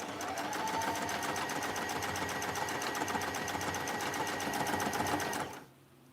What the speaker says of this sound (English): So I'm sewing these two pieces together to redeem my mistake